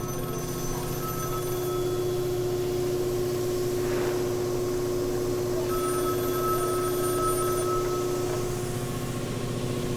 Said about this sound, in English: You know how long it's been since I've seen a phone like that work?